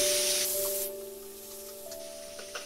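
Onion fries in hot oil with cumin and dried chilli. A loud hissing spray of sizzle fades within a second into a quieter, steady crackle under a faint electrical hum, with no talk.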